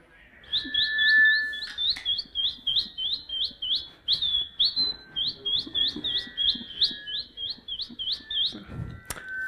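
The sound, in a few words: voice imitating a sparrow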